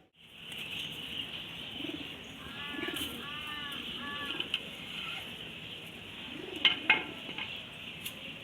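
Pigeons, racer and homer birds kept in a loft, give soft repeated cooing calls with occasional wing flaps and light clatter, heard close over a steady background hiss with no talk.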